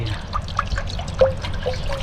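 Water poured into a pot while making fish soup, a close trickling, splashing pour running steadily through the short stretch with small bubbly spurts.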